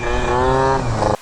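A motorbike fitted with a homemade 70cc two-stroke engine buzzes past at high revs, its harmonic whine falling slightly in pitch before cutting off abruptly.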